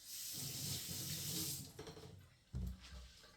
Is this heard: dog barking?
no